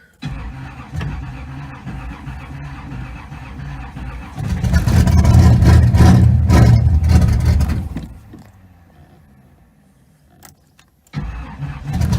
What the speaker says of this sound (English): I haven't started this car in over a week, and it is cold outside, so it's usually kind of hard to start when it's super cold